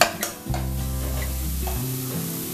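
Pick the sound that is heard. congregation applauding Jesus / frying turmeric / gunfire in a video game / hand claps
frying turmeric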